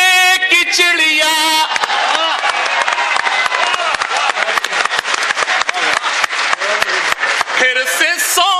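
Loud, dense applause from an audience at a mushaira poetry recital in Firozabad fills most of the clip with rapid crackling claps. A recited voice is heard before and after the applause.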